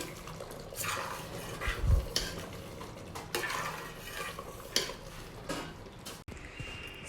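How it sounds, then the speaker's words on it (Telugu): Cooked black-eyed pea dal stirred in a pot with a ladle: soft scraping and occasional metal knocks against the pot, with wet, thick sloshing, close and moderately quiet, with no talking. "ఇదంతా కూడా పప్పు మరొకసారి బాగా కలిసేటట్టు మిక్స్ చేసుకోవాలండి"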